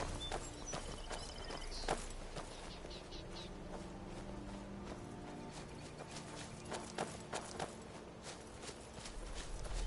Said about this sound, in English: dang horse